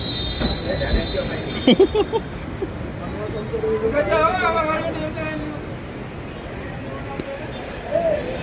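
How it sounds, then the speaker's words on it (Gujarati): A passing train gives off high metallic wheel squeals that peak midway over a steady rumble, with people talking close by. "આઈ રેલ ગાડી આઈ ક્યાં જતી રહી"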